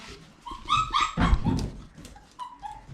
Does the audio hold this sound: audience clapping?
no